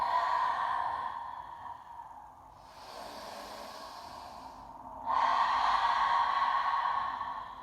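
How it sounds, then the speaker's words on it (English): Slow, deep breaths during a yoga session, each inhale and exhale a soft, airy whoosh like wind, close and alone with a brief quieter pause between breaths. "listen for the sound of your own breathing"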